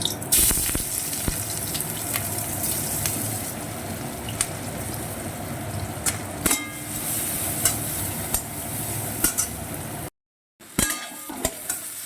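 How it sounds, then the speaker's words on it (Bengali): Water spinach fried with garlic and chili in a pan, giving a steady close sizzle with frequent scraping stirs and clinks, broken by a brief silent gap near the end. "এই যে কলমি শাকটাকে এখন রসুন লঙ্কা দিয়ে ভেজে নিচ্ছি"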